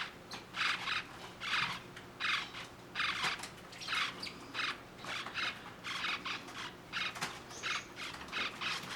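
One-week-old lineolated parakeet chicks give soft, rapid squawks and chirps in a steady repeating rhythm, close by and fairly faint.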